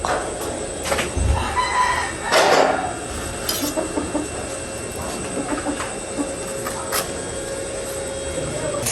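Chickens cluck and a rooster crows in the distance over a steady outdoor background hum, with scattered bird calls throughout.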